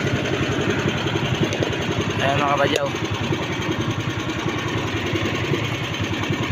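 A fishing boat's engine idles at sea, a steady low rhythmic chugging under someone speaking nearby.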